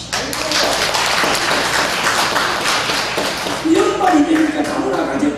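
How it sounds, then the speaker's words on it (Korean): A church congregation at a Korean worship service claps together, a steady wash of hands filling the room, with voices rising over the clapping toward the end. "박수 한번 칩시다."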